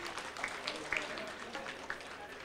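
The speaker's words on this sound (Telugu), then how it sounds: "చప్పట్లు కొట్టండి." Soft, distant audience clapping at a centenary celebration, a thin steady patter with a few sharper claps standing out over faint crowd murmur.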